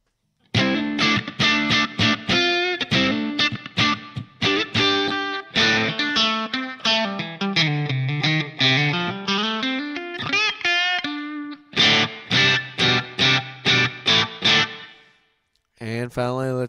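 Electric guitar through a Line 6 POD HD500 modeling a bright Marshall JTM-45 amp at about 70% volume, playing loud distorted chords and melodic runs with sustained notes, brief pauses, and a final short stab after silence.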